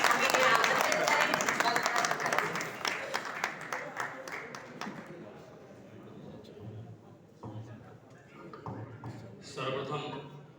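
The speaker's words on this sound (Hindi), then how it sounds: "एक बार जोरदार तालियां बजाकर हमें यहाँ आमंत्रित करें" Audience applause at an all-India poetry gathering (kavi sammelan and mushaira), a dense burst of clapping that fades over several seconds, followed by a few scattered claps and someone speaking over the hall.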